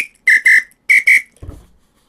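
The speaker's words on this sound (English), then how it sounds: "Gotta love the samba whistle." Samba whistle blown in two quick pairs of shrill, piercing blasts, close and loud, followed by a short soft thump.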